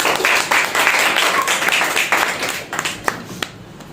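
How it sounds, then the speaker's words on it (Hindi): A church congregation at a Wednesday service claps loudly, dense applause that thins into a few scattered claps before fading out. "जोरदार एक ताली बजाइए"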